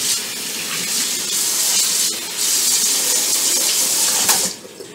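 Kitchen tap runs hard, rinsing drained marinated food in a sink, a close, steady hissing splash with shifting spatter that cuts off abruptly near the end.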